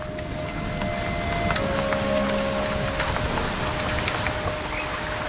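Steady rain pours over a lush tropical forest, a dense even hiss of drops on leaves with a faint distant rumble beneath, continuous and moderately quiet with no voices.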